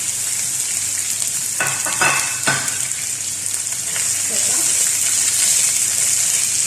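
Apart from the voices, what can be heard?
onion frying in oil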